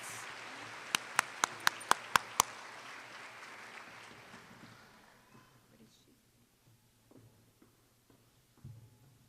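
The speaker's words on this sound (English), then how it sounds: "Give them a round of applause." Applause at an honors recognition ceremony, a few loud close claps over a fading crowd that dies away to quiet room noise within a few seconds.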